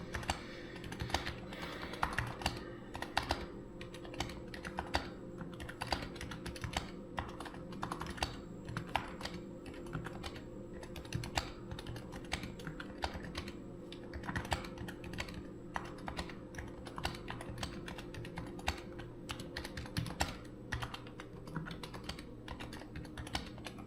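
Rapid, irregular clicking of a Razer Huntsman V2 keyboard being typed on, keystrokes close and fairly quiet, steady for the whole stretch without speech.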